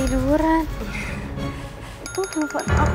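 A mobile phone rings with a repeating electronic ringtone in a domestic drama scene, its melody mixed under music and voices, with a brighter ringing burst near the end.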